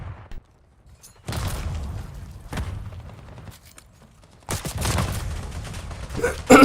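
Gunfire bursts from Call of Duty Black Ops 6 play, loud repeated volleys and thuds in two main stretches separated by quieter gaps, with a final sharp blast at the end.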